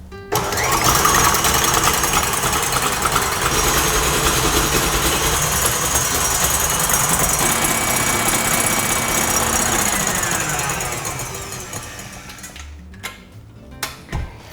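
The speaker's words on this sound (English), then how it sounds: "with the whisk attachment, I'm going to whisk these eggs together for about 5 minutes until it forms stiff peaks" Stand mixer with a whisk attachment whipping eggs to stiff peaks, a loud steady motor whir with rhythmic whisk rattle that winds down near the end, followed by a few clunks.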